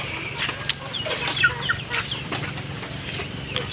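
A hen in a backyard coop clucks softly in short, irregular bursts over a steady hiss of outdoor background noise.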